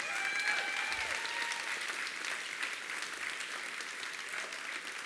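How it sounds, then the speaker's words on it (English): Sustained crowd applause at Charles Herbster's election night gathering, dense and even throughout, with a faint whistle or cheer near the start. "would you give all of this group in front and behind me a big round of applause"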